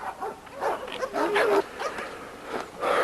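Dogs barking in a dog yard, a run of repeated nearby barks and yelps in uneven bursts, with little else around them.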